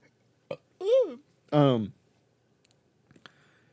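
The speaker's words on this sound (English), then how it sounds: "Like I'm already burping." A person burps twice in quick succession, loud and close, and the second burp is deeper and longer. Faint clicks and mouth noises follow in a quiet room during a podcast recording.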